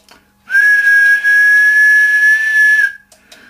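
A single loud, steady 4 kHz tone from an International Concord 2 ham radio sounds for about two and a half seconds with a brief dip partway, then cuts off abruptly.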